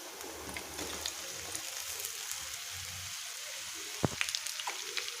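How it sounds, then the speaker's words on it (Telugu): Bitter gourd pieces and onions frying in a pan, a soft, steady crackle and sizzle heard close but quiet, with a single sharp clink partway through. "ఈ ముక్కల్ని బాగా ఫ్రై చేసుకోవాలి."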